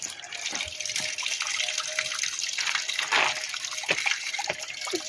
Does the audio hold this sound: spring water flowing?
yes